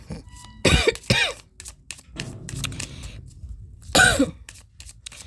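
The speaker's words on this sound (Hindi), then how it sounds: "यार मेरी तो खांसी सही नहीं हो रही" Three harsh coughs up close, two in quick succession and one a few seconds later, with quiet rustling between them.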